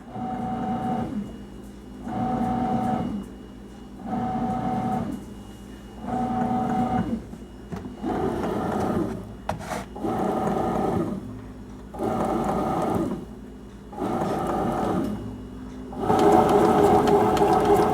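A bread machine kneads sweet bread dough in its pan, its motor humming and churning in regular rhythmic cycles of about a second each, separated by brief pauses, steady and close, with no speech.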